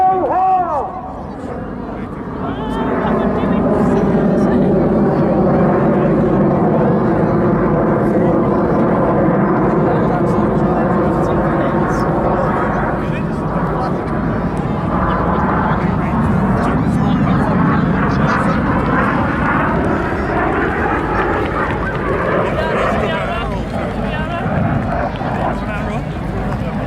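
Red Arrows RAF aerobatic team jets climbing at Southport Airshow, a loud sustained roar with a sweeping engine whine that swells and shifts in pitch, under an announcer's commentary and faint crowd noise.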